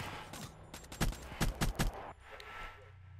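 Gunfire in Call of Duty Black Ops III during an online match: a few scattered shots, then a tight burst of four or five sharp, loud reports in quick succession, fading into faint game ambience.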